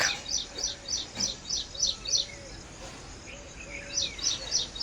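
Sparrows chirp in quick bright bursts of several notes, repeating in clusters with brief pauses between them against a soft, steady outdoor background.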